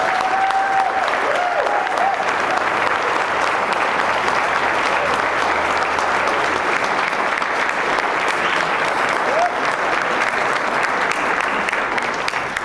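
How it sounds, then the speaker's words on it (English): Loud, continuous applause from a crowd at a community college career and technical education signing day, honoring students, sustained evenly throughout with a faint voice or two underneath. "give them a big round of applause"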